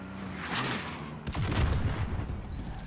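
Gunfire in a video game, a rapid burst of dense booming shots close and loud, with rumbling low-end blasts crowding together after a brief lull.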